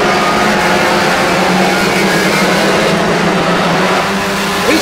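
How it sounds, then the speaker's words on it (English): Stock cars race past on a track at a banger and stock car season opener, producing a loud, steady engine roar that fills the whole stretch without a break. "This car number 904 across the line, still leading the way"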